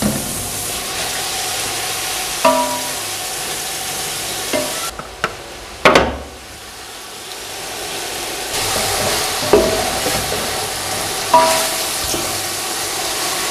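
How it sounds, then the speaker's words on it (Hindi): Mutton frying for Sindhi biryani, a loud steady sizzle and steamy hiss with stirring scrapes and a few sharp spoon clanks against the pot, no speech. "गोश्त को हमने थोड़ा सा फ्राई करना है।"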